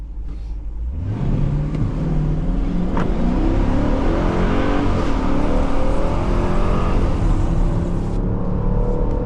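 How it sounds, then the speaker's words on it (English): A 2026 Dodge Durango GT Plus with a 5.7 V8 launches under launch control, its engine roaring up through rising revs and gear changes, loud and close from inside the cabin, with no speech. "let's activate launch control real quick"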